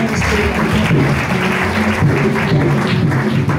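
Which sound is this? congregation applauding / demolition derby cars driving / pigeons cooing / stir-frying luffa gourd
congregation applauding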